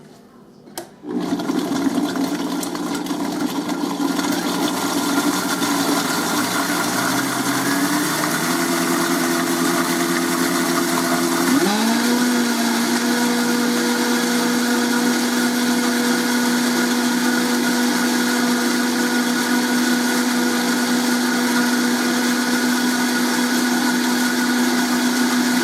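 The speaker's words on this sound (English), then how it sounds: "I'm going to blend this up first." A blender whirs up salad dressing in a steady, loud roar that lasts the whole stretch, its pitch rising and settling as it gets up to speed, close by and with no talking.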